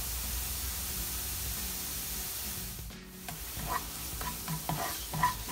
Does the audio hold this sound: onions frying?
yes